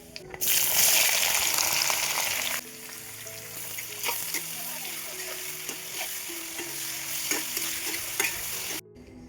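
Sliced onions hit hot coconut oil in an iron pan with a loud burst of sizzling that eases into a steady frying crackle with stirring scrapes, while soft background tones hum beneath it.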